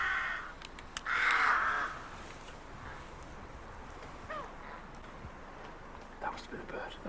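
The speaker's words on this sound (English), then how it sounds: "That must have been a bird." A crow caws loudly once in an outdoor setting, a harsh call that is soon followed by a few fainter, more distant caws. Wind noise runs underneath.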